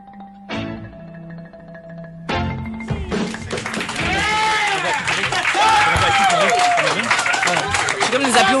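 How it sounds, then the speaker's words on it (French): Live podcast audience in a studio setting bursts into applause, a dense broadband clapping wash swelling after a few sharp opening claps and holding loud and steady, with cheering voices and chatter mixed in. "applaudissements"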